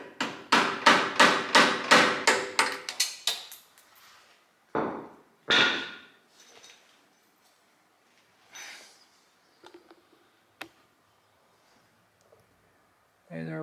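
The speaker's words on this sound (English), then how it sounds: "The only good hammer that I have happens to be pretty big, so I'm just gonna have to try and be a little light with my taps here." A big hammer taps a pin on a Cub Cadet 1015 lawn mower, starting with a rapid run of about a dozen sharp metallic strikes. A few scattered, heavier knocks and clicks follow with quiet gaps between them.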